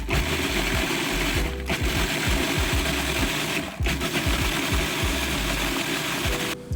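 A food processor pulses parmesan cheese and freshly cracked black pepper, a steady loud motor whir broken by two short pauses between pulses, with rapid chopping clatter underneath.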